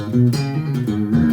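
A short melodic line of plucked guitar notes in a minor pentatonic shape, several separate notes in a steady, even rhythm, played close and clear with no talking.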